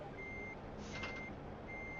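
Reversing beeps from a truck backing up to couple a trailer in American Truck Simulator, steady repeating tones over a constant engine drone.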